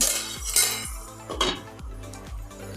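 A utensil stirs and scrapes chopped onions in a metal cooking pan, a few clinking strokes and scrapes at close range, fairly quiet, with no talking.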